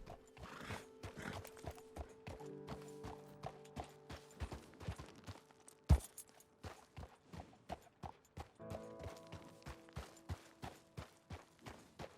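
Horse hooves clop steadily along a mountain path in Red Dead Redemption 2, a regular walking rhythm of sharp hoof strikes over quiet game music, with one louder thud partway through.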